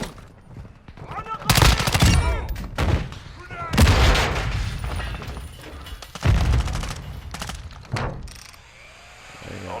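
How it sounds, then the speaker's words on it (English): Call of Duty gunfire, bursts of rifle shots and heavy booming impacts arriving in clustered volleys several seconds apart, loud and close, with radio-style voices talking between them. "I'm taking effective fire."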